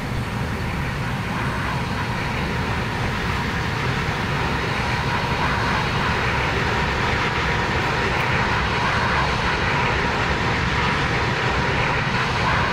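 Airbus A320 engines in the X-Plane 11 flight simulator, heard from an outside view as a loud, steady, unbroken jet roar with no speech over it.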